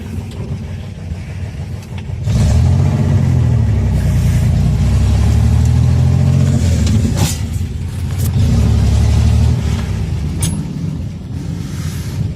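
Chevrolet Corvair engine running for the first time, a loud close idle that rises into a heavy rumbling rev for several seconds, eases off, then revs again.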